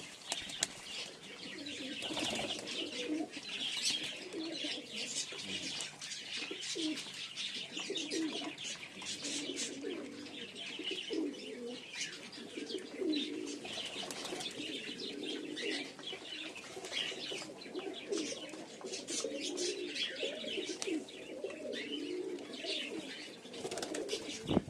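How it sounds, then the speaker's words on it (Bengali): Pigeons coo softly and continuously with bursts of fluttering wings while old, fancy and flying birds feed at night, a fairly quiet, close, busy mix of cooing and flapping. "পুরোনো পায়রাগুলো কিন্তু ভয় পায় না, বেশ এরা খায়"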